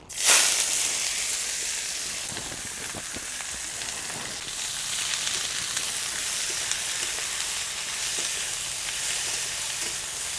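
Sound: ivy gourd frying in hot oil

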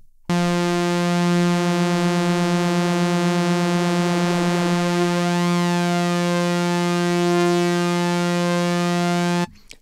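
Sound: synthesizer tone with flanger effect

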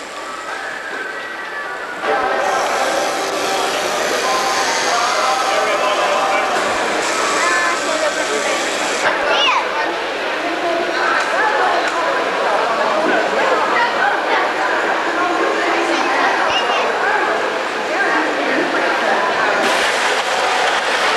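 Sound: model locomotives running on a club logging layout

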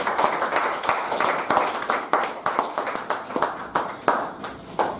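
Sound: meeting audience round of applause

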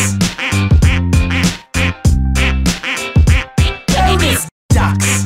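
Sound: ducks quacking

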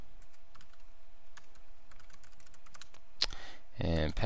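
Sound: typing login password on a computer keyboard

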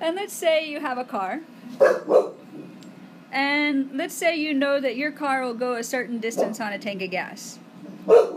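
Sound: dog barking

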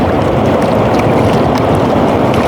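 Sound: strong wind by the sea at night

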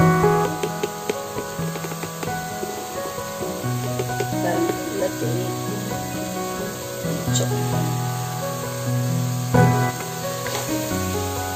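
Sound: garlic paste sautéing in a pan

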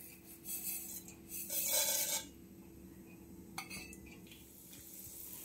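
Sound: fenugreek and mustard seeds added to heated oil

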